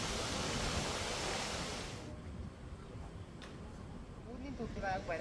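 Water rushing from three gates of Bhadar Dam in Mahisagar, opened 1.25 metres to release 12,000 cusecs: a dense, roaring broadband wash, loudest at first and then settling into a steadier, slightly softer rush.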